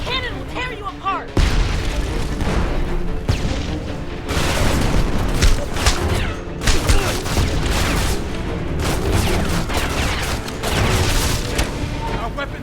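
Heavy cannon blasts boom repeatedly in quick bursts amid rumbling battle noise, loud and close, with shouting voices mixed in, in the video game Homefront.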